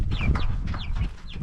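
Several chickens, including meat chickens about 12 weeks old, cluck and squawk in short bursts in hot weather over a low rumble of background noise.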